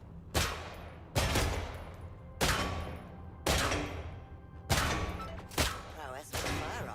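Pistol shots at training targets in the zombie shooter Killing Floor 3, with six sharp, evenly spaced single reports, each followed by a short ringing tail, clear and up close.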